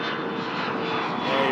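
Delta Connection CRJ-900 regional jet at Toronto Pearson airport, a steady broadband engine roar and whine held at an even, moderately loud level throughout the short stretch.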